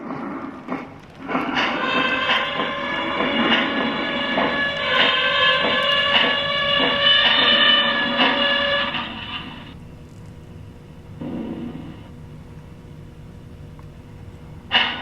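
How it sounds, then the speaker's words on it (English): A long, loud, multi-toned metallic squeal of a Lionel model train's brake rises over rumbling rolling noise, holds for several seconds, then cuts off, leaving quieter clatter and a short squeak. "let's go ahead and apply that wonderful train brake again and fix the flat"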